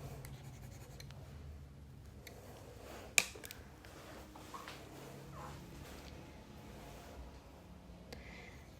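Handwriting notes with a pen on paper, soft continuous scratching strokes, close but faint, with one sharp tap partway through and no talking.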